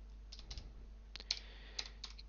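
Soft typing on a computer keyboard, a light irregular patter of key clicks with a few sharper taps, heard close up in a quiet room over a low steady hum.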